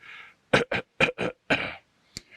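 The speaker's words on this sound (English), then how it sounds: "Let me clear my throat." Several short throat-clearing grunts in quick succession, close and fairly loud, followed by a brief sharp sound after a pause.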